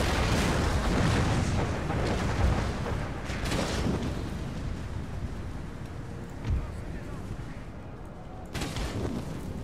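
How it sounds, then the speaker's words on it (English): Explosive artillery rounds in the video game Empire Total War land as dull booms amid a dense, continuous battle din, with a sharper burst near the end. "There you go, explosive rounds coming in."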